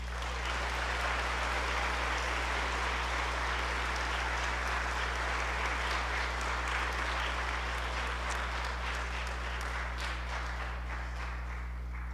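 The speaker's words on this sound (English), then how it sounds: "Please join me in giving all of them a big round of applause." A school choral concert audience applauds at length, a broad, even roar of clapping heard from a distance over a constant low hum, sustained for about twelve seconds without speech.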